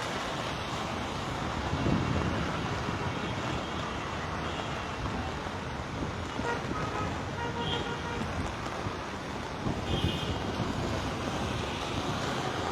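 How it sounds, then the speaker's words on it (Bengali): Strong wind during a Dhaka rainstorm roars continuously and buffets the microphone, surging in heavy gusts with a dense, rushing wash throughout. "বৃষ্টির সাথে সাথে এখানে তীব্র বাতাস বইছে।"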